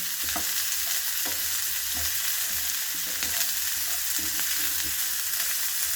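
Boda kakarakaya, spiny bitter gourd, frying in a pan with a steady close sizzle and occasional stirring clinks throughout.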